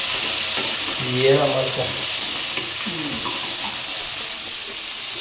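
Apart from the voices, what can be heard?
tomatoes frying in a pan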